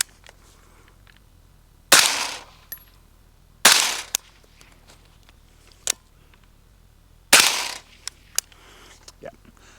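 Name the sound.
suppressed rifle shots with buffer spring noise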